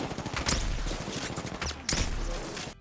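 Automatic weapon fire in Apex Legends comes in two sustained, rapid bursts separated by a brief pause, loud and close with sharp repeated cracks and no speech over it.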